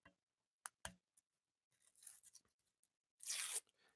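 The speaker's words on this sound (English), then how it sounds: "The label is what's creating that paper sound." Paper label torn and peeled from a metal can in a quiet room, a few short rips and crinkles building to one longer, louder tearing burst near the end.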